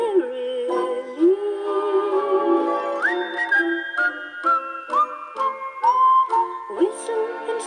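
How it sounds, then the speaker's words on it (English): Clear melodic whistling with sliding pitches carries a bouncy tune over light music on a vintage Disney vinyl record, loud and close. "Just whistle along with this tiddly song"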